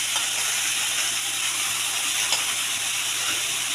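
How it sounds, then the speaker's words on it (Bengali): Water at a full boil in a cooking pot gives off a steady, close, broadband steam hiss with a faint bubbling texture, continuous and even throughout with no talking. "এই জলটা ফুটে গেছে"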